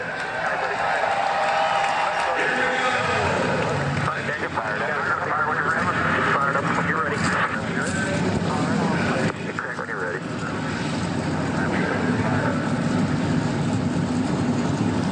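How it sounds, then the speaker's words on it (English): NASCAR stock car engines fire up at Indianapolis Motor Speedway before the 2017 Brickyard 400, swelling into a sustained, loud, dense roar from many cars after a quiet start, with crowd noise and an announcer's voice mixed in. "Drivers, start your engines."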